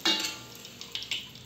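Fritters fry in hot oil in a pan, a soft steady sizzle with a few sharp clinks and scrapes of a utensil stirring near the end, close and moderately loud.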